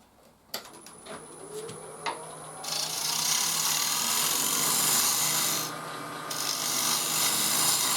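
A clay former turning on a wood lathe as a tool cuts away a small bump, a loud continuous rasping scrape that swells, dips briefly and then resumes, with no voices.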